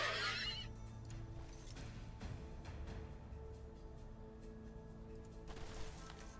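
A horse neighs in the Age of Wonders III strategy game, a sharp whinny at the start that fades into a low, quiet battle ambience with faint hoof clatter and distant effects.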